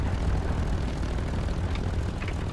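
A Bf 109 F-4 fighter swings around in a War Thunder realistic battle, its propeller engine roaring steadily and loud up close as a dense, continuous drone with no voices.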